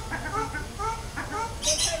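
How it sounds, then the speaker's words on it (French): Parakeets chirp and twitter all around in a walk-through aviary at a zoo, a busy close cluster of short high calls over a background murmur of visitors. "Il y a une volière où on peut se promener parmi les petits oiseaux,"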